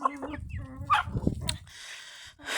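Hens clucking softly close by in a coop in short, uneven bursts, with quiet rustling in between.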